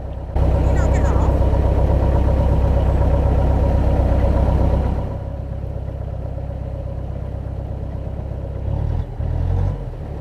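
A vehicle engine idles loudly and steadily, then drops off as it pulls away on a dusty surface with its wheels spinning, a lower rumble continuing afterward; a voice speaks over the start.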